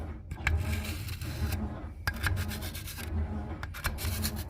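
A screwdriver drags through the clogged channels of a flattening lapping stone, giving repeated rough scraping strokes through thick clay-like mud, close and rhythmic with short pauses between passes.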